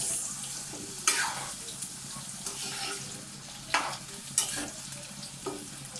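Sliced sweet potatoes frying in a pan, a soft steady sizzle with a few sharp scraping stirs spaced a second or two apart, fairly quiet and with no talk.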